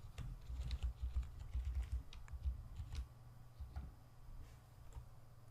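A password being typed on a computer keyboard, with quiet, irregular key clicks in quick bursts at close range, fairly soft and with no talk.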